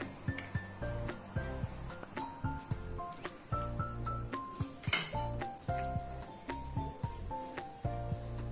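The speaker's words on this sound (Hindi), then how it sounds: "स्पून की मदद से हम इसके अंदर अपना फिलिंग डालेंगे" A metal spoon scoops taco filling into shells, giving repeated clinks and scrapes against a pan in a steady rhythm, close and clear, with one sharper clatter midway and no talking.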